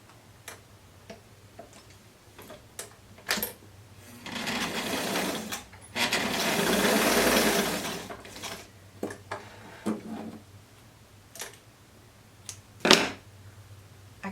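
A home sewing machine stitches a folded hem on a blouse in short ticking bursts and one longer whirring run, with mechanical clicks and pauses between the bursts.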